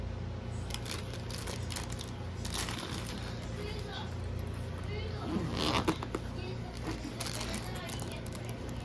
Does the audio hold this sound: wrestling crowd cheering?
no